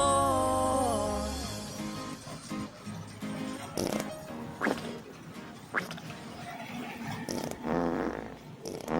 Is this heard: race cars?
no